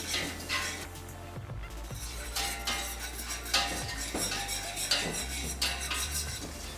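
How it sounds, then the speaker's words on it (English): A metal spoon scrapes and clinks against a pot while flour roasts in sunflower oil, with repeated stirring strokes and knocks over a faint sizzle. "2 glasses of flour are added and the flour is roasted."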